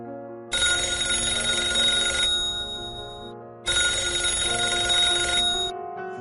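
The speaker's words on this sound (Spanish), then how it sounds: "2 días después, suena el teléfono de Carlos." A telephone rings close and loud in two long electronic bursts separated by a brief pause, with nobody speaking.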